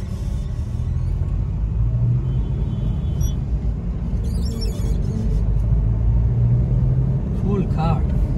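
A used Subaru Forester AWD with a naturally aspirated boxer engine drives along, its low, steady engine and road rumble filling the cabin continuously, with a few faint clicks and rattles on top.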